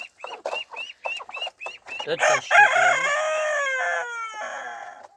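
Backyard chickens, including a Marandi hen, cluck in short repeated bursts, then a rooster lets out a long, loud crow close by; a person speaks briefly in the background.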